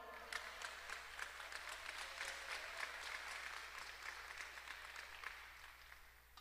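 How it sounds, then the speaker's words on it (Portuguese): A church congregation applauds during a sermon, many hands clapping in a fairly quiet, roomy wash with some distinct sharp claps over a steady low hum, fading toward the end. "Aplauda ao Senhor."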